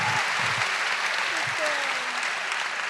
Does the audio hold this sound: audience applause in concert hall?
yes